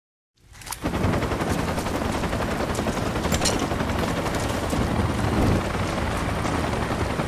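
Sustained automatic gunfire in a Rise of the Tomb Raider firefight, dense rapid bursts starting abruptly and continuing loud and unbroken, with occasional sharper cracks over the din.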